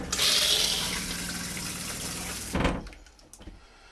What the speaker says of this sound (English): Go to flush.